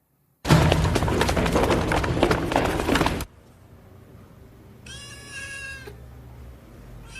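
A loud, rough rumbling noise fills the first few seconds, then a small kitten gives one clear, high meow in a quieter room.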